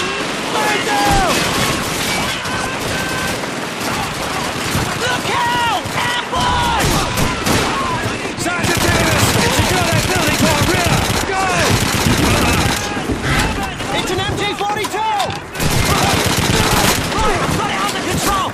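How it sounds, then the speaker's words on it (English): Loud, continuous MG-42 machine gun fire in the World War II video game Call of Duty 2, rapid bursts and explosions layered with shouting soldiers and battle noise for the whole stretch. "It's an MG-42!"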